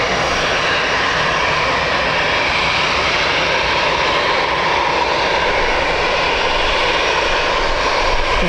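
ATR turboprop at Birmingham Airport, a loud, continuous engine drone with a dense propeller buzz that holds steady throughout, close by and with no talking.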